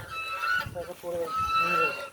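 Domestic geese kept on a farm give several short, nasal honks in quick succession, close and fairly loud, while people talk nearby.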